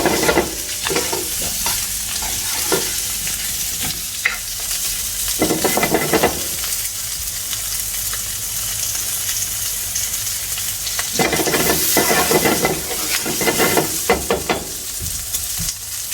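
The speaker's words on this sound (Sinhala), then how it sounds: "ඊළඟට මම මේකට එකතු කරන්නේ චිකන් ටික. ඒක පොඩ්ඩක් එක රත් වෙන්න ඕන." Chicken sizzles and fries in a hot pan for Sri Lankan devilled chicken, with repeated bursts of stirring and scraping over a steady close hiss, alone without talk.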